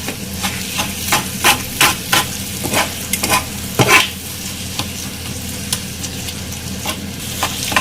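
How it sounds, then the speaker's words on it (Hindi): Kata kat stir-fried street style over a high flame: a loud, continuous sizzle punctuated by repeated sharp metallic clacks and scrapes of a spatula against the pan, irregular and close. "तो जब हम इसको भूनते हैं तो हाई फ्लेम ही रखते हैं"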